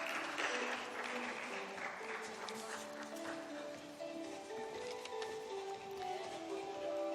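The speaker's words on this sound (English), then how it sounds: "let's welcome them on stage with a round of applause" An audience at a dentistry leadership event gives a round of applause: a faint, even patter of many hands clapping at a distance, with music playing faintly underneath.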